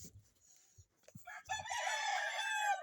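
A tied-up rooster crows once, loud and close, after a few soft clucks and scattered light knocks from nearby chickens.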